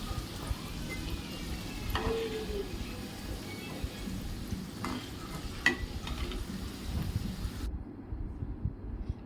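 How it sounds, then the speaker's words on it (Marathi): Bakery-style patties frying in a pan over a very low flame until crisp, giving a steady soft sizzle with occasional faint clinks of a utensil, no voices. "एकदम कमी गॅसवर मंद आचेवर आपले पॅटीस असे मस्त क्रिस्पी होईपर्यंत तळून घ्यायचे"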